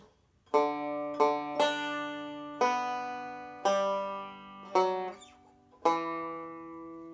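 A banjo plucks a slow melody in single notes, seven bright twangy attacks ringing out and decaying, close and clear with no voices.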